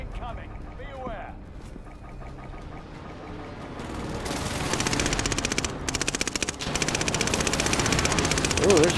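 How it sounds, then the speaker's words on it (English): In Call of Duty Modern Warfare, rapid automatic gunfire erupts after a quieter opening with faint voices, a dense, loud stream of shots continuing for the last few seconds. "Ooh, they're shooting."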